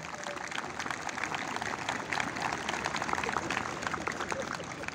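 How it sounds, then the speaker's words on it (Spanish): An audience applauds police district officers at a police ceremony, producing a dense, continuous crackle of many hands clapping at a fairly distant, even level for about five seconds. "para quienes pido un caluroso aplauso de agradecimiento"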